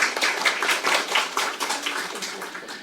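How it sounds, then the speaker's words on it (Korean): An audience at a Korean panel discussion on bioplastics gives steady applause as participants are introduced. Moderately loud, even clapping continues throughout and slowly tapers. "한 분 한 분 소개할 때 힘찬 박수 부탁드립니다"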